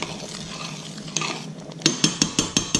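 Spaghetti sauce gets a quick stir in a pot: a soft, wet scraping at first, then a run of sharp, evenly spaced spoon clinks against the metal rim, close and clear.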